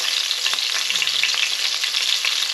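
Thinly sliced red Cheongyang chili peppers fry in oil with a dense, steady sizzle and crackle, close and continuous throughout with no voices.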